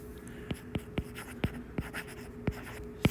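Marker writing a label on a classroom whiteboard, a series of quiet, close squeaks and taps spaced irregularly over a soft background hiss.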